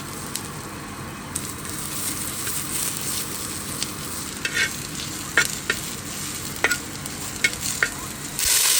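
Chillies frying with turmeric powder in hot oil for a Konkani cabbage foogath, a steady sizzle with scattered crackles and a few sharp scraping knocks as the pan is stirred, no talking.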